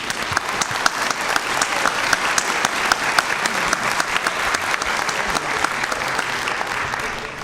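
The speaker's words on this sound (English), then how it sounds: "I think we should give them a round of applause." Conference audience at a water resources meeting gives sustained applause, a dense, lively clatter of many hands throughout, fairly close and even, with crisp individual claps standing out.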